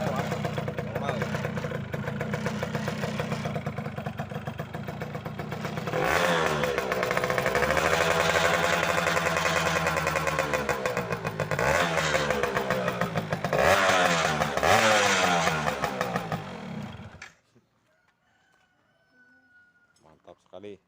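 A 2004 Yamaha F1ZR two-stroke motorcycle engine starts up close by, idles steadily and is revved in repeated rising blips, running loud and continuous for about seventeen seconds before cutting off, leaving near silence.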